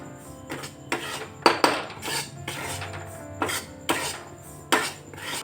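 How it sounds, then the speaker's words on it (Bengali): Semolina is dry-roasted in a pan over low heat and stirred with a metal spoon, which scrapes and clinks against the pan in a series of sharp, close strokes separated by short pauses. No one speaks. "এখন সুজিটা অল্প আঁচে ভেজে নেব, খুব বেশিক্ষণ ভাজবো না, 1 মিনিট মতো অল্প আঁচে ভেজে নেব।"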